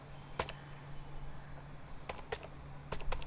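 Typing on a computer keyboard, with sparse clusters of light key clicks at irregular intervals, near but quiet over a low steady background hum.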